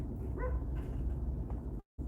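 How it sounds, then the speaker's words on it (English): A dog barks somewhere outside during a drive through an old Las Vegas neighbourhood, heard as a couple of brief, faint yips over steady road and engine rumble, followed by a short dropout. "somebody dog barking"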